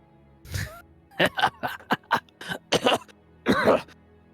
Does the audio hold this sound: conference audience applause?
no